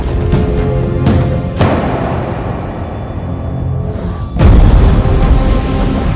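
A cinematic explosion effect for a planet colliding with Earth, loud and deep: a rolling rumble with sharp cracks early, fading, then a heavy booming blast that roars on.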